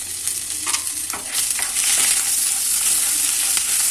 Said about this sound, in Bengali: মিলে মশলাটা একটু ভেজে নেবো